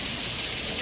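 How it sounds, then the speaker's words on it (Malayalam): Steady, dense rainfall pours down continuously in Kollam, a broad even hiss without breaks. "ഇന്നു നമ്മൾ വന്നതിന് ശേഷം ആദ്യമായിട്ടല്ലേ ഇത്രയും കണ്ടിന്യൂസ്ലി മഴ പെയ്യുന്നത്"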